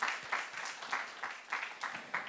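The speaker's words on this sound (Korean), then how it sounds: "우리 다시 한번 모든 렘넌트들 큰 박수로" A church congregation applauds at a Teachers' Sunday worship service, a moderate round of clapping with gently rising and falling bursts, fairly distant and not very loud.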